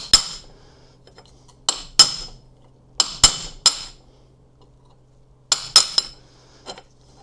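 Sharp metallic hammer blows ring out in irregular clusters as the front bearing of a Xiaomi M365 scooter is knocked from its housing, each strike loud and close with a short ringing decay and quiet gaps between.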